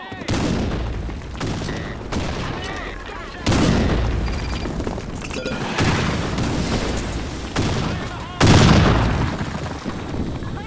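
Grenade blasts and gunfire in the shooter game Blackshot, several loud booms at intervals amid rattling shots, with voices calling out between them.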